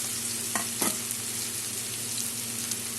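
Chopped ash gourd and green chillies sizzle steadily in a hot pan, with a couple of brief stirring scrapes near the start over a constant frying hiss.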